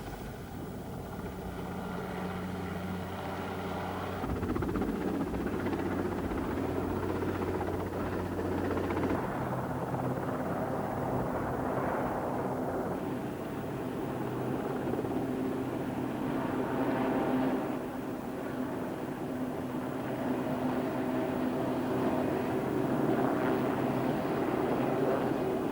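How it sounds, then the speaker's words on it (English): Military helicopters hover in turn during a 1982 Falklands War rescue, winching men aboard, their rotors producing a continuous, heavy drone at moderate distance without any talk. "The helicopters waited in turn, steady in the air, to move in once the one in front of them had moved away"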